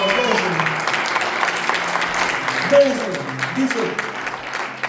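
A church congregation breaks into broad, continuous applause, a steady dense wash with a few brief voice fragments rising over it.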